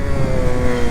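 BMW S1000RR sportbike with an aggressive Akrapovič exhaust, heard as a brief, loud, steady low engine rumble with no speech over it.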